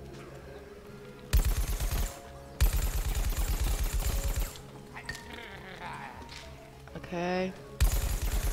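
Rapid bursts of gunfire from Plants vs Zombies Garden Warfare 2 come in two loud sustained volleys, then a pause with game effects and a brief word spoken, before another burst starts at the end.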